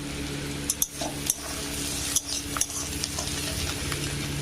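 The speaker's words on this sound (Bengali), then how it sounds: "ডিম আর আলুটা একসাথে ভেজে নিতে হবে ভালো করে" Egg and potato sizzle together in a hot pan as a utensil stirs and scrapes, with occasional metallic clinks close up.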